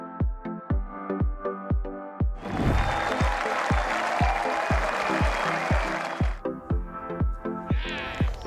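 Golfer Aria claps on the course: a dense burst of applause-like clapping lasts about four seconds, framed before and after by steady, evenly spaced plucked tones.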